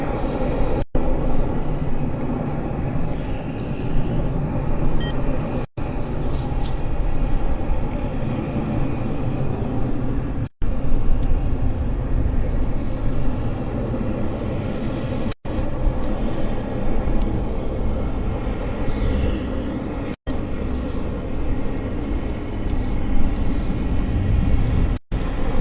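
An Icelandair airliner landing at Vancouver airport, heard as a steady, heavy jet roar and rumble that holds for the whole stretch, fairly loud and without clear speech.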